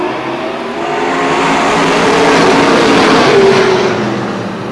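Race cars run wheel to wheel at Star Speedway in New Hampshire, a loud sustained roar of engines that swells and holds as the cars pass close, then eases slightly at the end.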